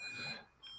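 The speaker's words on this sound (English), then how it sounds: "sorry about that beeping noise" Faint high-pitched electronic beeps, a couple of short steady tones, sounding in the background at low volume.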